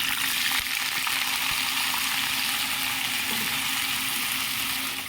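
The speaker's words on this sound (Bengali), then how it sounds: "ডালের সাথে পাঁপড় ভাজাটাও খেতে খুব ভালো লাগে তাই একটু পাঁপড় ভেজে নিচ্ছি" Papad frying in hot oil gives a steady, bright crackling sizzle that holds unbroken from start to finish, close by and with no talk over it.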